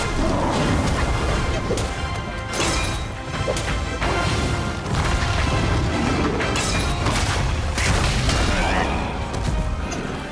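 Enemy blowing up in the action game Black Myth: Wukong, a dense, loud run of crashing booms and heavy impacts with whooshing strikes, continuous and thick throughout, with a voice faintly audible beneath the din.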